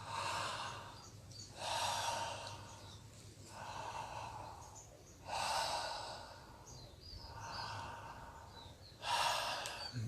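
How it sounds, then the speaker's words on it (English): Slow open-mouth breathing in and out, each long airy inhale and exhale clearly audible, close and fairly quiet, repeating in a steady rhythm of about five breaths with no talking. "and you breathe in really slowly in and out."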